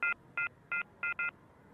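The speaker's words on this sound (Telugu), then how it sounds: "ఇంకో నెంబర్ చేస్తానుండు" Five short telephone keypad tones as a number is dialed, evenly spaced beeps with a quick pair at the end, clear and close against quiet background.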